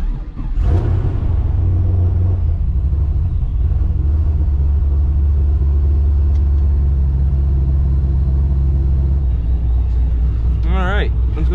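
A Pontiac GTO fitted with a D1SC ProCharger supercharger cranks and fires, then settles into a loud, steady, throbbing idle that runs close-up throughout, with a brief whine near the end.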